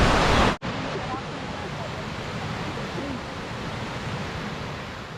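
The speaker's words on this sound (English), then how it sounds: "In the past 2 weeks it's been raining, and that's why the waterfalls are really full of water." A rain-swollen waterfall at Kroshuna Waterfalls in Bulgaria roars in a broad, steady wash of rushing water after a brief cut near the start, continuous and close with no talking.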